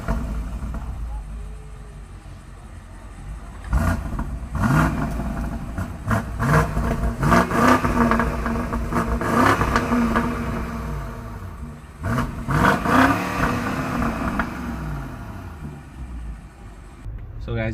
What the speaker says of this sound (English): Let's actually take a listen to the exhaust and experience how this thing drives.